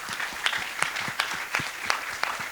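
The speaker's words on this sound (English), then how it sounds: "Round of applause." An audience at a talk gives a short burst of applause, a steady patter of many hands clapping at moderate volume, with a few louder individual claps standing out.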